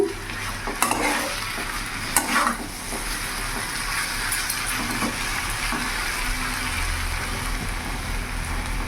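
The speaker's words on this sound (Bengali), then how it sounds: "এবার এইভাবে রেখে দেবো, আমি ভাজা করব।" Taro stolons cooking with prawns in a pan over a raised gas flame, giving a continuous close sizzle and hiss with a few utensil scrapes and clicks early on, then a steady fry that goes on without voices.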